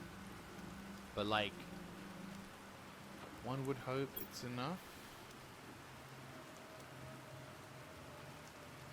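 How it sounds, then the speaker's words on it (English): Rain falls in the video game Planet Crafter as a faint, steady hiss throughout, with brief talking over it. "I don't know how long it'll rain for."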